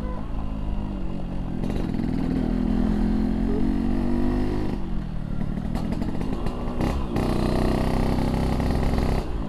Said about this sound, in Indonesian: suara knalpotnya yang sudah baru diperbaiki